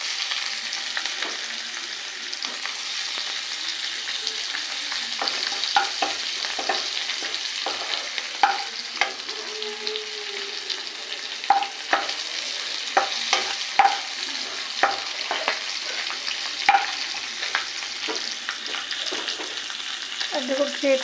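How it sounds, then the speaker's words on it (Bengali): Chopped garlic frying with lightly browned chopped onion in a pan, a steady sizzle broken by frequent clinks and scrapes of a stirring spatula, close and continuous with no talking. "পেঁয়াজ কুচিটা হালকা ভাজা হয়ে গেছে, এবার দিয়ে দেবো রসুন ছোটো করে রেখেছি সেটা।"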